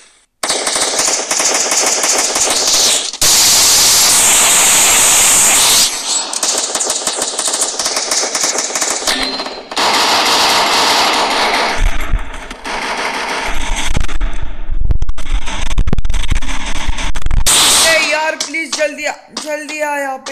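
Bursts of automatic gunfire from an online shooter video game, loud and rapid, alternating with stretches of game sound effects and short pauses.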